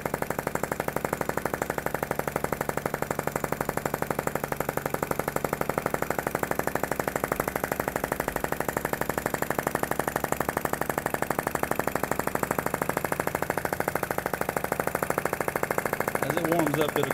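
A PM Research Solar Engine, a small flame-heated model engine, runs at a steady rapid rhythm, a constant close mechanical chatter with no pauses.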